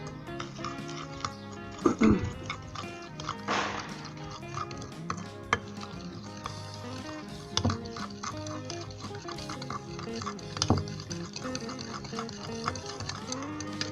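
Biscuit dough of flour, custard powder, sugar, oil and salt being mixed with a spoon in a bowl, giving a steady patter of soft scraping and clinking with a few louder knocks, no talking.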